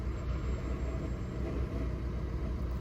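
A Fiat Egea 1.3 Multijet diesel with a manual gearbox idles roughly, giving a close, continuous low rumble with slight unevenness and no talking.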